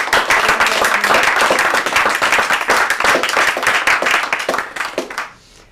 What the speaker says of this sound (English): they're going to give you a huge round of applause anyway